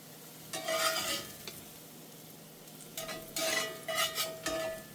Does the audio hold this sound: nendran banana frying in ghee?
yes